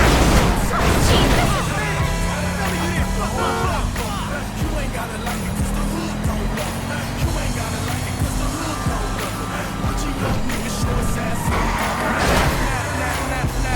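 Car crash and engine roar in the video game Grand Theft Auto 5, a loud impact up front followed by a sustained revving engine and road noise, with music and a voice mixed over it.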